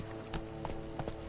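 Horse hooves clip-clop at a steady trot in The Witcher 3 on PS4, a few distinct hoof strikes over a constant game soundscape, fairly close and clear.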